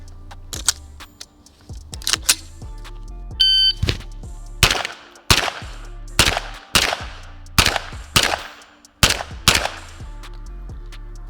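Carbine shots on an outdoor range at 15 m targets, loud sharp cracks in quick pairs with brief gaps between, plus a short electronic beep near the start.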